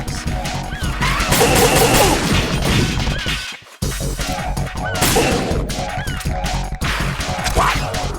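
Explosions and a dense barrage of blasts in a Metal Gear video game, loud and continuous across the whole stretch with only a brief drop in the middle.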